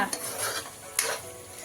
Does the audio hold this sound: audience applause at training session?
no